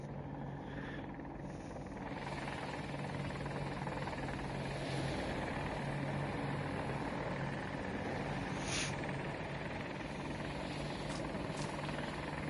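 Attack helicopter in the Battlefield 2042 video game, its rotor drone running steady and loud for the whole stretch, with a few brief sharp in-game blips over it and no talk.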